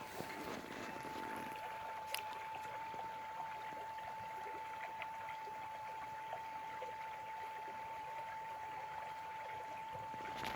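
Creek water flows in a soft, steady rush that stays faint and distant throughout, with a thin constant tone running beneath it.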